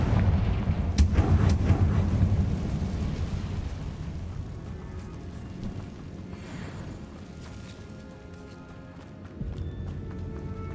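A Confringo spell explosion in the video game Hogwarts Legacy: a loud burst of blast near the start fades into a rumbling, crackling tail, with lighter pops and scattered impacts that follow.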